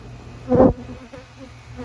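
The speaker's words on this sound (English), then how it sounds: "I was in a hurry to get the bees out of that bee vac and get them into the box" A honey bee buzzes close by in a short, loud pass around a Layens hive during the hiving of a cutout colony, then fades into a faint, steady hum.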